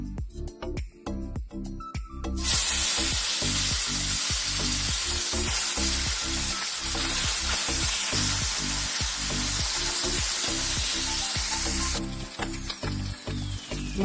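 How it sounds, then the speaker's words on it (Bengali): Fish, a morola variety, sizzles loudly in hot oil in a wok, a dense crackling hiss that surges in after a couple of seconds and holds steady to the end, with faint rhythmic tapping beneath. "তেলটা গরম হয়ে গেছে, এবার মাছটা ভেজে নেব।"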